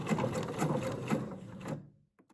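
A sewing machine runs a long-stitch seam down a dress, giving a steady close mechanical whir with a rapid rhythmic chatter that stops abruptly near the end, leaving a couple of faint clicks.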